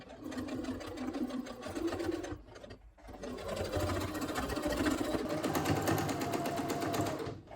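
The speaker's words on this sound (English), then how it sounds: "So I pretty much just center this seam between both needles and then sew." Sewing machine stitching a jersey knit t-shirt neckline, running steadily and continuously for most of the stretch with one brief pause near the middle, loud and close with no talking.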